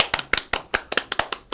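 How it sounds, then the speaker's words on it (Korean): Applause after a high school student's college-admission talk at a career coaching session, heard as a sparse run of about eight separate sharp claps at an uneven rhythm, close and moderately loud, with no talking. "네. 박수."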